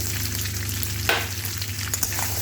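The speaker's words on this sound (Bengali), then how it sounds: "এখন আমি মটরশুঁটিটা দিয়ে দিলাম" Peas land in a pan of small potatoes frying in oil, giving a steady close sizzle with a few soft clinks and stirring scrapes.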